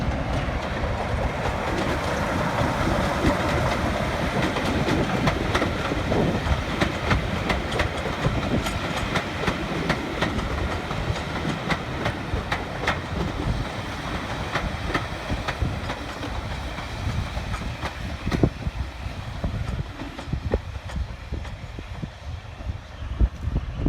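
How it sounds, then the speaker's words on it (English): Class 45 diesel locomotive 45108 pulls into a station, a continuous rumbling train sound with rhythmic clickety-clack of wheels over rail joints, fairly close and steady for the whole stretch. "As Class 45108 pulls into the station"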